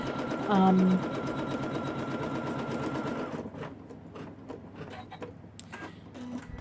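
An in-the-hoop embroidery machine stitches quilting scallops on a mermaid tail zippered pouch, giving a steady rapid mechanical whirring for about three seconds before it stops. A brief voice comes through early, and faint clicks and handling follow.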